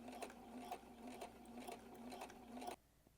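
A sewing machine stitches horsehair braid onto a garment hem with a steady, quick rhythmic whir and tapping, close and continuous, then stops abruptly near the end.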